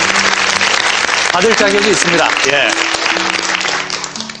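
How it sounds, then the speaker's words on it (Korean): Loud studio audience applause fills the whole span as a dense wash of clapping, with a man and another person briefly speaking over it before it eases at the end. "박수 한번"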